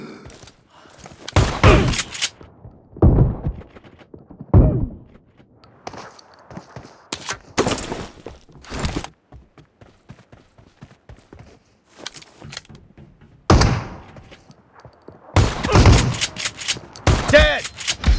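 Shotgun blasts in the mobile battle game PUBG Mobile, sharp loud bursts arriving singly and in quick clusters with quiet gaps between, mixed with shuffling footsteps.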